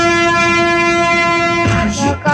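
Train horn in a Telugu comedy film scene, a long steady harmonic blast holding for most of the moment before breaking off into mixed rumble and scattered voices near the end.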